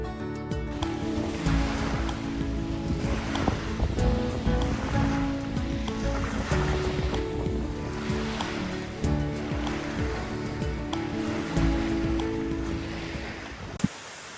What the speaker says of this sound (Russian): нашли, где идет ручей с горы прямо от ледника